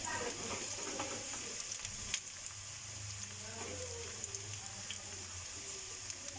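Onions and whole chilies fry in a pot for a chicken kadhi, a steady soft sizzle with occasional scraping from stirring, close and alone.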